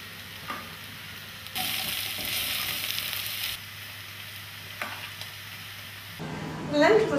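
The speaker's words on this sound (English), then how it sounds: "then you can just let it simmer very gently for another 20 minutes." A pot of lentils for dal simmers gently and gives a steady, close sizzling and bubbling hiss. The sound swells for a couple of seconds, and stirring and clinking noises come near the end.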